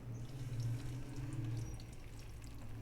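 Chicken shami kababs frying in a pan of hot oil, a steady soft sizzle and bubbling heard up close with no talking.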